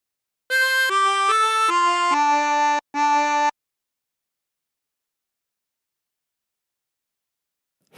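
A chromatic harmonica plays a short phrase of Drunken Sailor, six clear reedy notes held briefly and stepping down in pitch, followed by silence for the rest of the clip.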